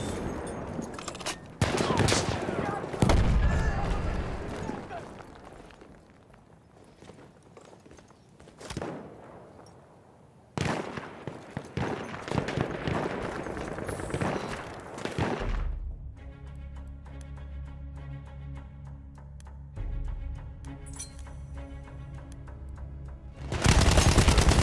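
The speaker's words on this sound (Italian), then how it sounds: "Mitragliatrice!" Machine gun fire in the WWI shooter Battlefield 1 during trench combat with a BAR M1918, heard as separate loud bursts and volleys, then a steadier stretch of rapid firing under battle noise and shouted commands.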